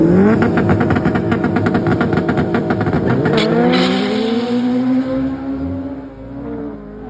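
Honda Civic sedan and hatchback launching side by side at a drag race, loud engines revving high in rising harmonic sweeps, then shifting and pulling away as the roar settles into a steady drone.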